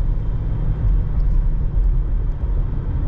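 A 1985 Buick Riviera driving down the road gives a steady low rumble of engine and tyre noise, heard from inside the car and continuous throughout, with no talking.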